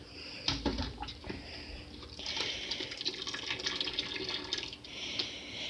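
Whey drips and trickles from a clump of butter cheese curds draining in a colander, a close, steady patter of liquid with a few sharper splashes near the start.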